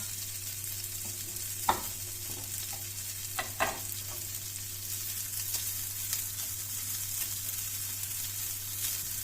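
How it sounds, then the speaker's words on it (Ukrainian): Sliced thick sausage frying in a pan, a steady low sizzle running throughout with a few sharp pops and light clinks of stirring, no voices. "Трішки обсмажиться і додавлю одне яйце"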